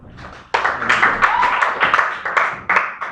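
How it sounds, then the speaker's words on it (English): A class claps for a girl, giving uneven bursts of applause from a small group that start and stop several times, with voices talking over and between the claps. "Please clap for this girl."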